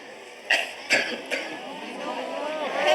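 Someone gives three sharp, close coughs in quick succession, then a faint wavering voice continues in a quiet room.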